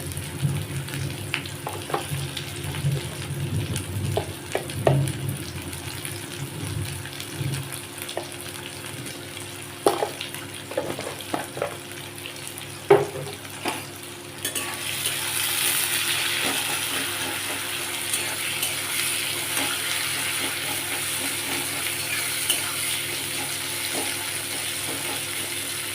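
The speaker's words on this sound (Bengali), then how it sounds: "এবার তো দিচ্ছি আমি পেঁয়াজ।" Onions fry in a pan with a little salt, first a quiet crackle with scattered clinks and scraping of a utensil, then a louder, steady sizzling hiss that carries on close by.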